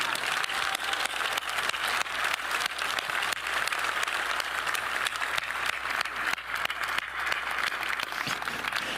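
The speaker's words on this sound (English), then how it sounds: "Please join me in giving a round of applause to Dr." Sustained applause from a large audience at an event in Detroit, dense continuous clapping at steady volume with no pauses.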